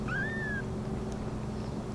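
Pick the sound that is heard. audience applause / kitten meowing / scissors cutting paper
kitten meowing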